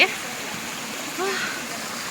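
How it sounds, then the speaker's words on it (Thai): A scenic, clean waterfall gives a steady, broad rush of falling water that runs through the whole short moment, with a brief voice rising over it partway through. "น้ำตกสวย"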